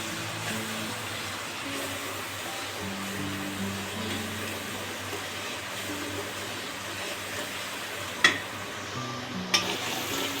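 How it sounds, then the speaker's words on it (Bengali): Spices frying in oil for a biryani, a steady close hiss and crackle running the whole time with two sharp clinks near the end. "যাতে ভালো করে সুন্দর করে মশলাটা তেল ফোটে।"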